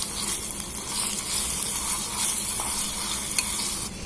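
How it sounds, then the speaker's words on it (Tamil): Ginger garlic paste sautés in a pan for mutton biryani, giving a steady, close sizzle with soft scraping as it is stirred, and no talking. "இஞ்சி பூண்டு பச்சை வாசனை போற வரைக்கும் நல்லா வதக்கி விட்டுருணும்."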